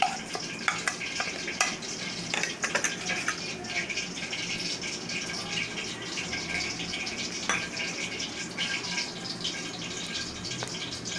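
Mutton with stuffed green chillies fries for achar gosht, a constant crackling sizzle punctuated by clanks and scrapes of a ladle stirring against the pan, fairly close and moderately quiet.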